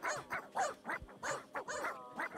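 A dog named Bear barks repeatedly in quick, uneven bursts, about eight or nine yaps with growly edges, fairly faint and heard on its own without talk.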